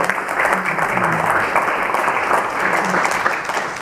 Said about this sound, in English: might you please render a round of applause to my